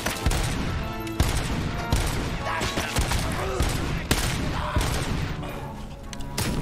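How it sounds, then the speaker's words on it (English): Implanted machine gun firing in RoboCop: Rogue City, a steady stream of loud rapid bursts with sharp periodic impacts running throughout, with no pauses. "He's got an implanted machine gun?"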